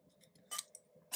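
Scissors snip through craft pieces in a few quiet, close, crisp cuts, with a louder slicing burst in the middle and another at the end.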